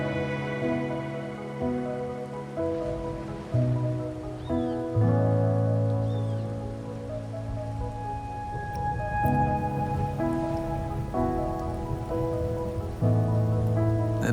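Rain in the video game Wuthering Waves falls as a steady, soft, continuous patter beneath sustained background music, with no voices.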